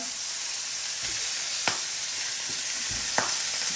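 Steady sizzling of HelloFresh meal-kit food frying in a pan, a continuous hiss with a couple of sharp pops and light stirring sounds, no voices.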